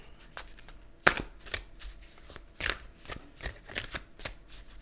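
A deck of oracle cards being shuffled close up, a quick series of crisp riffling slaps and snaps with no talk.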